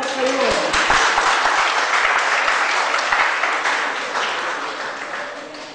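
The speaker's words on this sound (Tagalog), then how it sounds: "Pumalakpak kayo." Congregation applause fills a church, a dense steady clapping from many hands that starts abruptly, holds loud, then slowly tapers toward the end, with faint voices underneath.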